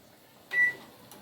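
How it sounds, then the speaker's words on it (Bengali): A microwave oven is switched on to heat oil with green chillies and nigella seeds, giving a single short electronic beep in an otherwise quiet room. "মাইক্রোওভেনটা এইবারে অন করব"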